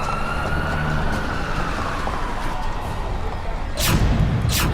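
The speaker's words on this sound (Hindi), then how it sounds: "एम्बुलेंस बुलाई गई" An ambulance siren wails steadily over dense background noise, with a louder surge near the end.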